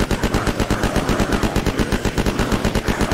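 Video game gunfire from Unturned: a fast, continuous automatic burst of loud, evenly spaced shots that runs for the whole stretch.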